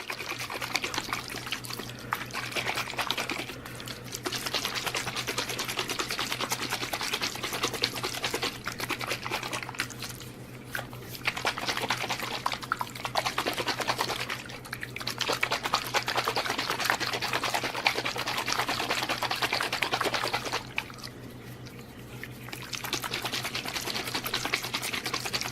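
Skateboard bearings shaken in cleaning liquid inside a sealed container: a continuous fast rattling slosh that keeps up for long stretches with brief pauses, close and steady, with no talk.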